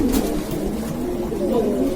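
Pigeons coo in soft, low, rolling murmurs, several overlapping calls close by with no pauses, in a pigeon loft in Novxanı, Baku.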